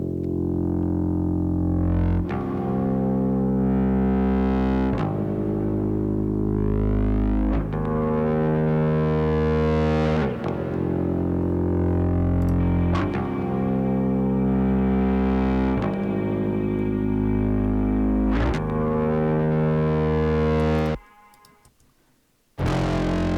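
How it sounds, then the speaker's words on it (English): Distorted bass guitar swells fade in and sustain one after another in a slow, regular rhythm, each note blooming loud and gritty before the next, ending in a brief drop to near silence. "I recorded bass swells with some distortion on it"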